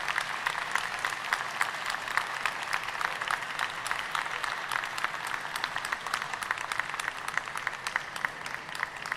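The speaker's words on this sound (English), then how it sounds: "25 seconds of applause starts now." Conference audience at a multi-stakeholder forum plenary applauding to welcome a government minister, a sustained, even wall of clapping from a large crowd, with crisp individual claps standing out throughout.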